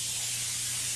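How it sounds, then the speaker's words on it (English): A 1925 vintage spray gun laying down a silver finish on furniture gives a steady, loud airy hiss that runs unbroken throughout, with a low hum beneath it. "Nice vintage spray gun there, Dan."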